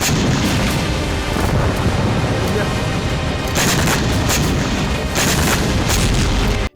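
Wartime explosions and heavy fire from the Russia–Ukraine conflict, a dense loud barrage of booms and blasts rolling continuously with no pauses, under a dramatic narration voice.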